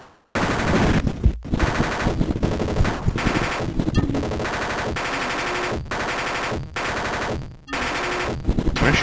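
Sustained rapid gunfire blasts from the Sega video game General Chaos, loud and continuous with brief gaps between bursts, under no talking.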